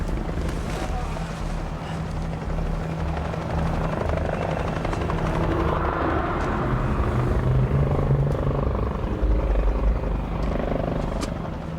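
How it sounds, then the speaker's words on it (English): Several helicopters flying overhead above a cliff, a steady rotor drone mixed with wind noise that swells gradually and grows louder toward the end, with no voices. "I heard some helicopters. They were quite distant at first."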